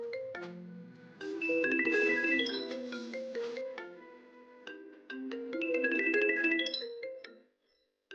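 A mobile phone plays a melodic ringtone loudly and close by. It rings for about seven seconds with a short break partway through, then stops.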